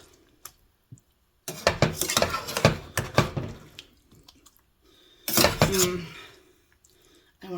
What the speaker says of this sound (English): I'm just going to use a spatula to dip my bowl.